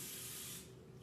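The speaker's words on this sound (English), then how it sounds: "So spraying of the pan" Cooking spray hisses from a can onto a griddle pan in one steady, close burst lasting about a second, fading slightly at the end with no talk.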